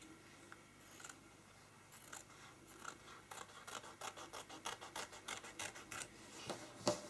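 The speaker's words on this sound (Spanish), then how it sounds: "ahora las vamos a recortar" Fabric pieces for a small sewing bag are snipped out with scissors, with soft rasping cuts that come faster and louder toward the end in a steady run of short crisp strokes, close up and without speech.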